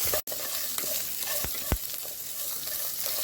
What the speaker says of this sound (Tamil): பச்சை மிளகாவையும் சேர்த்து நல்லா வதக்கிக்கலாம்